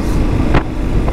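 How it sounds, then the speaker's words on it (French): A Yamaha Tenere 700 motorcycle engine is heard while riding, a loud close low rumble mixed with wind buffeting, with a brief brighter surge in the middle of the short stretch. "Le moteur est super souple."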